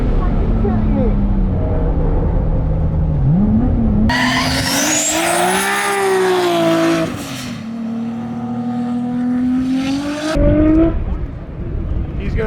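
A race car's engine screams hard around a track at an East Coast regional finals event, rising in pitch as it opens up, with loud harmonic whine and tire noise, while spectators talk and cheer nearby.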